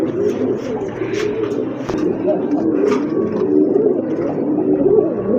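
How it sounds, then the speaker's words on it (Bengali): Pigeons at a pigeon sale coo repeatedly in low, throaty, close bursts, with background noise and murmuring around them. "মাশাআল্লাহ আরেক জোড়া কবুতর"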